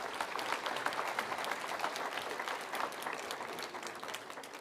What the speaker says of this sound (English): a big round of applause to the entire organizing committee